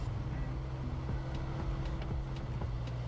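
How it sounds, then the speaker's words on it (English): Truck in SnowRunner stuck in a low gear, a steady loud engine drone with a droning low hum and faint clunks of gear changes, no talk over it. "you keep hearing the gear switch and it keeps going slow"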